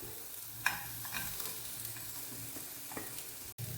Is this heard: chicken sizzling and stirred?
yes